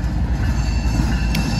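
A train rumbles past at close range, loud and steady, with dense low clatter from the wheels on the rails and a faint high squeal. No one speaks.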